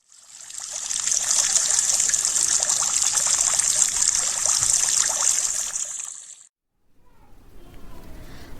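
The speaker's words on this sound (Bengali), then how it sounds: "অদূরে একটি কৃত্রিম প্রস্রবণ হইতে বৃত্তাকার আধারে জল ঝরিয়া পড়িতেছে।" Water from an artificial fountain falls steadily into a round basin, a continuous close splashing trickle that stops abruptly near the end, leaving faint ambient noise.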